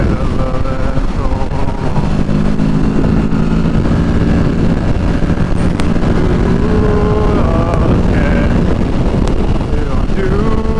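A 2023 Kawasaki Ninja 650 motorcycle on the move, its engine droning steadily under heavy wind rush at the microphone, loud and close throughout with some shifting tones.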